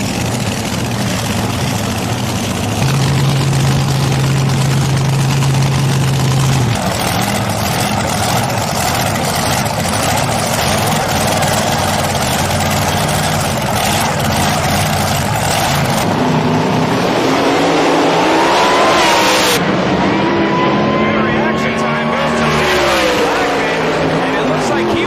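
Altered drag racing cars at Old Bridge Township Raceway Park, engines droning loudly and then roaring and revving through a run, with a voice talking over the engine noise.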